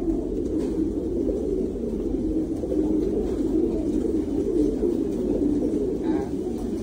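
Thai Titan meat pigeons at a pigeon farm, giving low, continuous cooing murmurs from a flock close by, with a voice talking over it.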